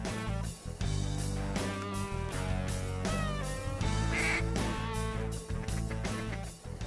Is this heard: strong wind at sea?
no